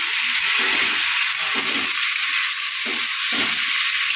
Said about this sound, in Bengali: খুব ভালো করে নেড়ে চেড়ে নেবো